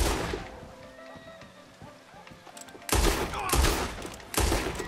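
Shotgun blasts in Red Dead Online free roam inside the Saint Denis saloon: a few sharp, loud booms in the second half, following quieter clatter and background game noise.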